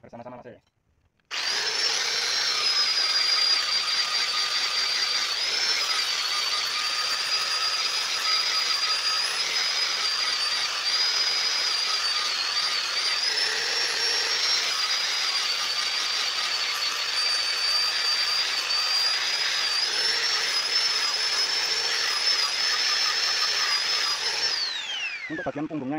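An angle grinder grinds the back, or spine, of a knife blade during a restoration, a loud, sustained high-pitched whine that starts after a short pause, holds steady for over twenty seconds and then winds down.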